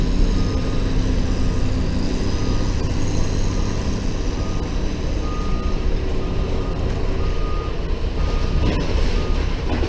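A scrap-hauling truck reverses with its backup alarm beeping in a steady, evenly spaced rhythm over a loud idling engine rumble.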